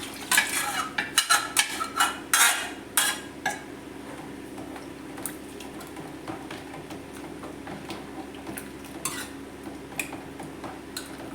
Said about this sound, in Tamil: இப்போ இந்த தனியாக பருப்பு கடைஞ்சி வச்சுருக்கிறதுல வந்து நம்ம இதோட சேர்த்துக்கலாம்.